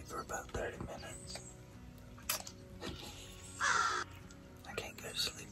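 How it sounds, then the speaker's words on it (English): Crows caw several times at a distance during a hunt, harsh calls scattered over quiet outdoor background with faint murmuring voices. "Dadgum crows out there."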